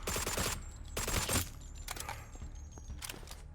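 In the zombie game Deathly Stillness, automatic gunfire rips out in two loud, rapid bursts, followed by quieter scattered shots and clicks.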